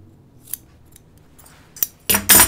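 Sharp-tipped scissors snip through a fabric seam while sewing men's Jutland pants, giving a few crisp isolated clicks followed by two louder, closer cuts at the end, with no talk.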